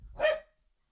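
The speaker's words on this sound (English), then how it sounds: "And my dogs, of course, are going crazy." A single sharp dog bark, close and fairly loud, cuts off quickly into silence.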